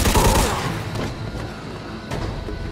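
Gunfire and booming impacts in the Mafia II video game, a heavy burst at the start and then scattered shots under dense, continuous game action.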